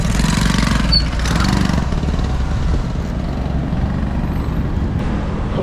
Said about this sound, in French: Oh non, une moto!